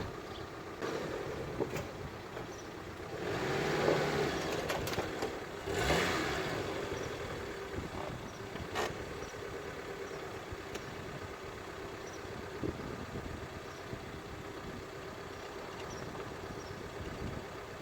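A Daihatsu Sportrak/Feroza truck sits on a speed bump while its engine is revved. There are a few swelling revs in the first seconds, then a quieter idle with occasional knocks, heard at a moderate distance.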